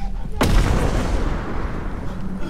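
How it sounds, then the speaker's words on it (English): A single heavy, booming bomb blast from a creature hurling explosives in the horror game Content Warning, striking sharply and rolling off into a long rumbling tail. "We have a creature throwing bombs at us."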